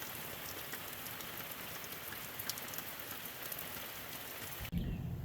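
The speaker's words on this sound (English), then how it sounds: "I didn't film much before the rain came" Rain falls steadily over a dry work site, a dense, even hiss with scattered drops that runs throughout before a sudden bump near the end.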